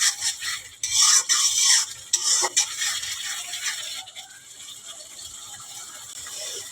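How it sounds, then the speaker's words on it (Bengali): Spice masala is stirred and sautéed in a pan, with a burst of sizzling and quick clattering scrapes that gradually settle into a softer steady fry. "এখন মশলাটা কষাতে হবে।"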